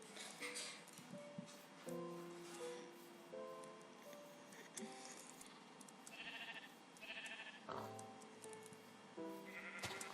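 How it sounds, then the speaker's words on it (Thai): Sheep bleat repeatedly in the video game Minecraft, several short nasal calls overlapping at an irregular pace over a faint game background, with no speech heard. "ตามมาหาแกะ"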